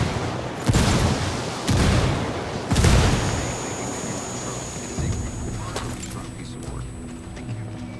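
A frag grenade explodes in the video game Ghost Recon, with several heavy booms and rumbling blasts in quick succession early on, followed by a fading rumble and ongoing game noise while people talk over it.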